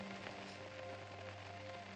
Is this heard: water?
no